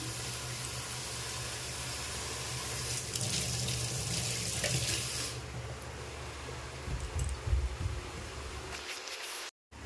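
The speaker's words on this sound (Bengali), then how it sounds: "এরপর এটা জলে ভিজতে দিয়ে দেবো। এই দেখুন এটাতে জল দিয়ে দিলাম।" Tap water pouring steadily into a bowl to soak chopped banana flower in a home kitchen, a continuous close hissing splash that runs for about nine seconds before cutting off.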